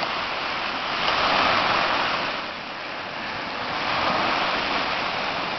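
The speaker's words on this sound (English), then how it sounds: "another wave that crashes against the shore, works its way up the beach, then slowly retracts back out to sea" Ocean waves crash against a beach shore, a continuous broadband wash that swells and recedes in slow surges, close and steady with no voices.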